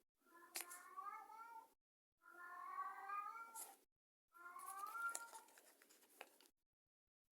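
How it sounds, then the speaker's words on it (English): A house cat meows in three drawn-out, wavering calls, each about a second and a half long with short silent gaps between them, close and fairly loud, with no other sounds. "my cat is driving me crazy"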